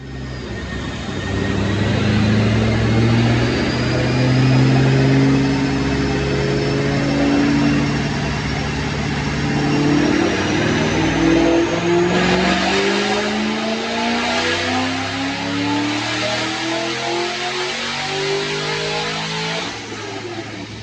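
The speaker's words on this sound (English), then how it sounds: "But check out this dyno pull." A Paxton supercharged, intercooled 2007 Mustang Shelby GT with Kooks headers and an FRPP manifold revs up on a dyno, the loud engine note climbing steadily in pitch with a rising supercharger whine over about twenty seconds.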